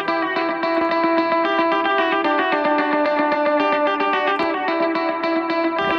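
Electric guitar riffs run through a TAL Chorus LX chorus plugin, giving a wide, shimmering, slightly distorted tone; steady picked notes and chords play continuously and loudly with no talk.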